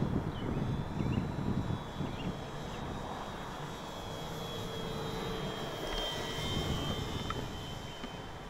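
A new EC-1500 radio-control airplane flies overhead, its engine drone steady and fairly faint at a distance, with wind noise underneath and no talk.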